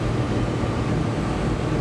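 A Suzuki Carry non-turbo mini truck engine holds high revs near 100 km/h, a steady droning hum mixed with wind and road noise from inside the cab.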